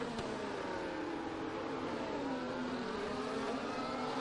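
Race cars in an F1 video game produce a steady, unbroken engine whine that holds one high pitch throughout, with no talk.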